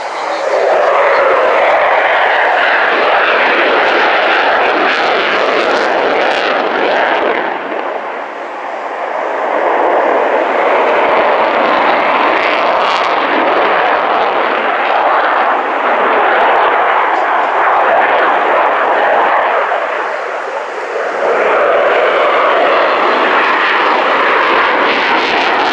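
An Su-27 jet fighter flies at the RIAT airshow at Fairford, a loud, continuous engine roar that dips briefly twice and swells again as it passes, with no voices over it.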